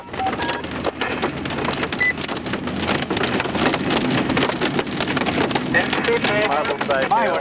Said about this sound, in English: We ran into some baseball, maybe larger size hail.